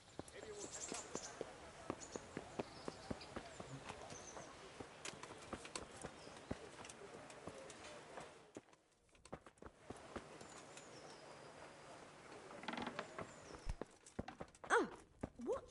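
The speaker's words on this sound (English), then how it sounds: "Get your horses mounted up and let's ride out." Horses ridden out in the video game Kingdom Come: Deliverance: faint, scattered hoof clip-clops and footsteps under game voices, with a brief lull partway through and a few sharper knocks near the end.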